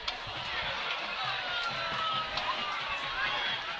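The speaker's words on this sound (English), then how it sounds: "you could hear the murmurs from the crowd" A stadium crowd at a high school football game murmurs after a shocking score is announced, a steady, distant hum of many voices that stays even and fairly faint.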